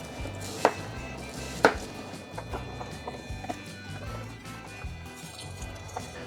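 A knife cuts through an onion for a smoked chuck beef sandwich, giving a couple of sharp, close chops on a cutting board followed by quieter, lighter slicing.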